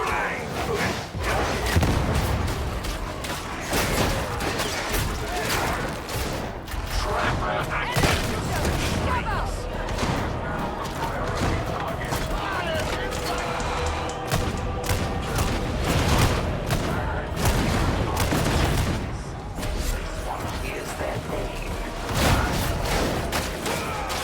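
A grenade goes off in the video game Warhammer 40k Darktide amid a barrage of gunfire, booms and thuds, with loud chaotic combat throughout and someone talking over it.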